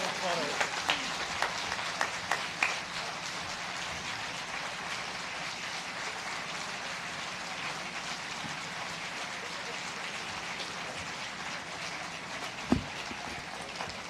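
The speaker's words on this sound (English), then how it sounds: "Let's have a big hand of applause." Audience at a museum groundbreaking ceremony applauds a $1 million family donation, with steady sustained clapping filling the space, fairly loud and continuous, and a brief sharper knock near the end.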